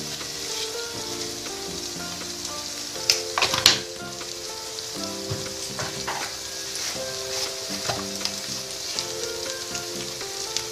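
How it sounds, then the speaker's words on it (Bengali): Tadka spices frying and being stirred in hot oil, with a steady close sizzle and scattered scraping clinks of the spoon, a brief louder burst of crackle near the start as spices hit the pan. "এটা ভাজা ভাজা হয়ে গেছে। আমি এবার পরিমাণ মতো সমস্ত মশলা দিয়ে দেবো।"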